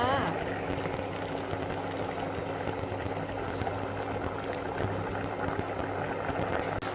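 Eggplant soup simmers in a pot with a steady, dense boiling hiss and bubbling that runs evenly throughout, close and moderately loud, with no pauses.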